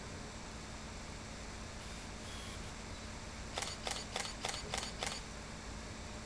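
Canon 450D DSLR shutter firing in continuous burst mode at about 3.5 frames per second, six crisp evenly spaced clicks close up over quiet room hiss.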